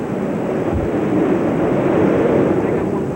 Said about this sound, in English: Omar's eye wall comes ashore